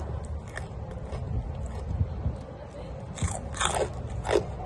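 Crispy dry Thai pork rinds (khaep mu) are bitten close to the mic, giving a series of sharp crunches and crackles that grow louder and more frequent toward the end.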